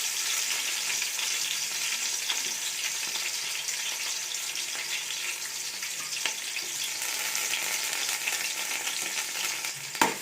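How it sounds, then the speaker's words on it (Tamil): Onions frying in oil with cinnamon, cloves and cardamom for a mushroom biryani, a steady close sizzle with faint stirring scrapes throughout, no talk. "வெங்காயம் நல்லா ப்ரௌன் கலரில் வர வரைக்கும் நல்லா வதக்கிக்கலாம்"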